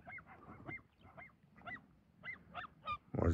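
Geese honk in a run of short, nasal calls spaced about half a second apart, fairly faint and outdoors, ending with a louder close burst.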